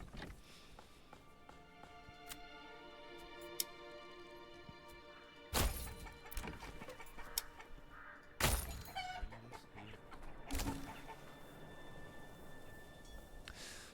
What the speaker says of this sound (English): I guess I get some chickens going for some food variety.